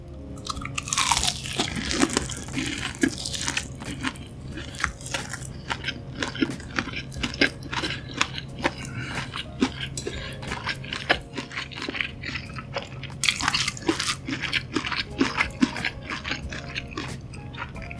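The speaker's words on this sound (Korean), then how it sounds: "빨간색 핫바는 머스타드 뿌려서 먹어볼게요." Close, loud crunching bites and chewing of a red convenience-store hot bar topped with mustard, repeated crisp bites and wet chewing in an irregular rhythm with no talking.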